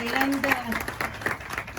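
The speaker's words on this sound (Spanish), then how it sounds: "Sí, se merece un aplauso este prólogo también" Scattered audience applause at a book presentation during a book fair in Morón, uneven clapping from a modest crowd with voices talking over it.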